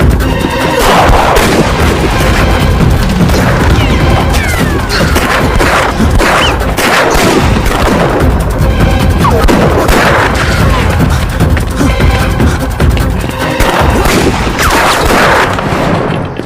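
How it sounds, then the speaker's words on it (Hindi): Heavy gunfire in an action film scene, dense loud volleys of shots and booming blasts overlapping with crashes, continuous and close throughout, with shouting voices mixed in. "गोली चलाओ।"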